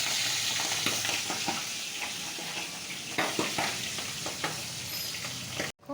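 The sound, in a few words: pabda fish frying in hot oil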